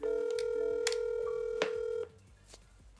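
A telephone rings inside a video game, one steady electronic ring tone held loud and close for about two seconds with a couple of sharp clicks, then cutting off to quiet background noise and a faint tap.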